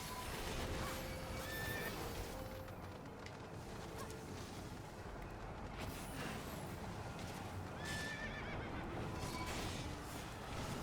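Horses in the video game Final Fantasy XIV whinny and neigh several times over a dense, steady bed of game noise and music, with no talking.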